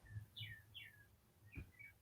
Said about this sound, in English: Do you guys hear the birds chirping?